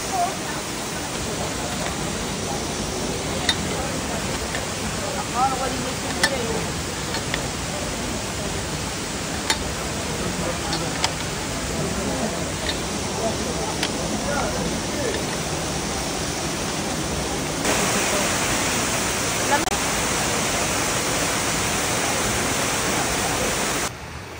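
Falls at a riverside spot in Morocco give a steady, broadband rush of falling water that fills the whole scene at even loudness and swells a little louder near the end.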